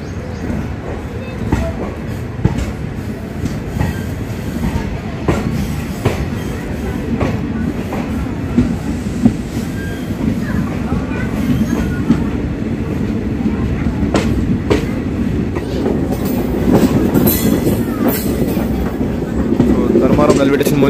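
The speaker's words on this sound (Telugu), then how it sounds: "నాగసముద్రం రైల్వే స్టేషన్ డిపార్చర్ చూడండి ఫ్రెండ్స్." A Hindupur–Guntakal DEMU train departs Nagasamudram railway station, its steady rumble and wheel clatter building gradually across the clip, with some speech faintly underneath.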